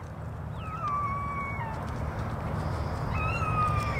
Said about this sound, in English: maybe you can hear the quail crying about it